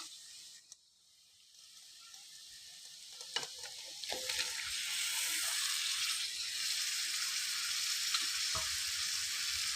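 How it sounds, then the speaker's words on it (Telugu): Marinated chicken frying in a pan over a low flame, starting quiet with a few scrapes and clinks, then building into a steady, soft sizzle that continues without talk. "ఈ చికెన్ అనేది మనము స్లో ఫ్లేమ్లో పెట్టుకొని, సిమ్లో పెట్టుకొని మంచిగా మనము ఫ్రై చేసుకోవాలి"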